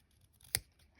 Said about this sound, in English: I should probably use bigger scissors.